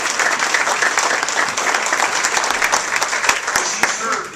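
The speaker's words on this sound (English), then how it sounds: "Give him a great round of applause." An audience at a political event breaks into sustained, loud applause with dense clapping throughout, with some voices mixed in.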